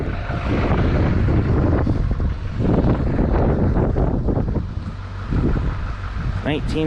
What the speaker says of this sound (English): It's a little windy. Don't mind the noise.